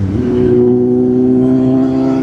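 Engine of a Kawasaki Z800 motorcycle while riding toward Lonavala, a loud, close, steady drone with strong even harmonics that rises slightly early on and then holds a constant pitch, with no talking.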